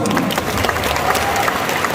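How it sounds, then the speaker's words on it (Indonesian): Audience clapping at a religious Maulid gathering held in South Korea, a dense, steady applause from a sizeable indoor crowd lasting throughout. "Tepuk tangan semua."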